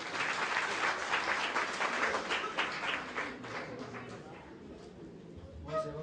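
Audience applause at a Hindu religious discourse on Rukmini's wedding, dense steady clapping that thins out toward the end, with a brief tonal call near the close.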